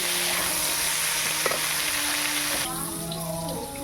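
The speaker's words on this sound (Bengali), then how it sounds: "এবার এঁচোড়টাকে ভালো করে তেলে একটু ভেজে নিচ্ছি।" Boiled green jackfruit frying in oil makes a steady, close sizzle that shifts to a brighter, fizzier crackle partway through, with a faint clink or two of a utensil.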